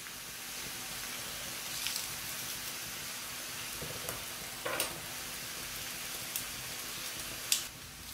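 Four large cloves of garlic sizzle in olive oil, a soft constant frying hiss with a few brief clinks and scrapes of stirring.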